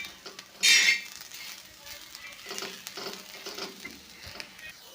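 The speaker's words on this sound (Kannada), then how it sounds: "ಜೋಳ ಈ ಥರ ಇನ್ನೂ ಹುರಿಬೇಕು ಇದು ಇಷ್ಟೆಲ್ಲ ಇನ್ನೂ ಹುರಿಬೇಕು" Sorghum grains roast on a hot pan and are stirred, giving a brief loud sizzling burst followed by soft, scattered scraping and rattling.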